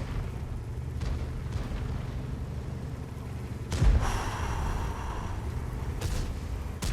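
A single heavy cannon shot from the FV230 Canopener tank in World of Tanks, a sharp boom near the middle that rolls into a rumbling impact, over constant engine and battle ambience.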